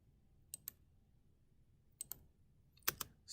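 Spacebar on a computer keyboard pressed in three quick pairs of sharp clicks, quiet and close, separated by near silence.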